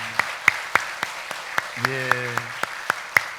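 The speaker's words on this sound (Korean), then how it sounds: "박수로 이분들 격려하도록 하겠습니다" Sparse, evenly spaced hand claps in a church congregation, sharp and fairly close, with a short spoken word partway through.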